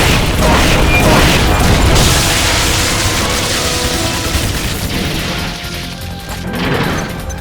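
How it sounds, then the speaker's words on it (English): Artillery supporting-fire explosions in Metal Gear Solid: Peace Walker, a loud, dense roar of crashing blasts and debris that slowly subsides, with a fresh impact near the end. "They're about to commence the requested supporting fire. Stay clear."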